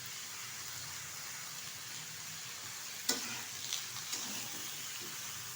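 Vegetables for shukto frying in oil in a pan, a steady soft sizzle throughout with a few brief clinks and stirring knocks near the end, no talking.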